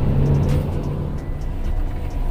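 A manual car creeps forward slowly, its engine a low steady rumble with a soft whir, close and even, with no sharp revving and no voices.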